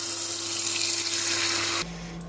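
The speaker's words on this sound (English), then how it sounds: "Next, you're going to fill the tap water tank up with cold water." Cold tap water pours into the tap water tank of an AquaTru reverse osmosis countertop filter, a steady, close, rushing stream that cuts off abruptly near the end, leaving a low hum.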